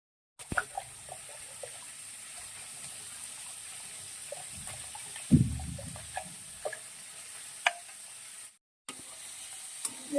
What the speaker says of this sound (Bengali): আমার বাঁধাকপি ভাজা হয়ে গেছে